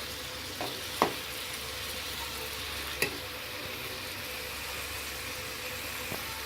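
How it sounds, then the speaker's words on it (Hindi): Tomatoes fry in oil for pickle over medium heat, giving a soft, even sizzle broken by a few sharp clinks of stirring. "टमाटर को ऑयल में अच्छी तरह से मिक्स करें।"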